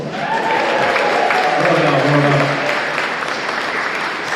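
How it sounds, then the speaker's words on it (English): Full, sustained applause from a convention crowd at a live stage show, a thick steady roar of clapping with faint voices mixed in. "Round of applause."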